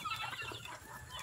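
Restless fighting roosters and chickens cluck and squawk at a late feeding, a brief burst of overlapping fowl calls close by against a low background hum.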